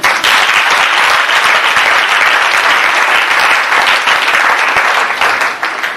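A church congregation applauds loudly and steadily during an evening prayer vigil, a dense wash of many clapping hands that holds for several seconds before easing slightly at the end.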